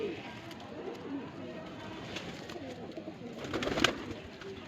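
Babru pigeons, a famous Bareilly breed, coo softly outdoors during a summer flying tournament in Bareilly, with low murmuring calls repeating under a steady background hum and a louder burst near the end.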